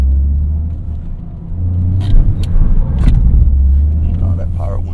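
A Toyota GR Corolla idles with a loud low rumble and then pulls away after the e-brake is released. The engine drone stays steady and close, with a few brief sharp bursts on top.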